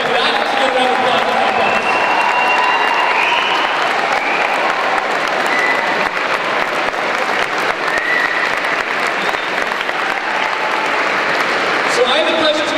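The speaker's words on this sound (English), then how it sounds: "Definitely want to give them a round of applause because they're doing the lunch." Sustained audience applause at a youth keynote event, a loud, even roar of many hands clapping throughout, with crowd voices mixed in.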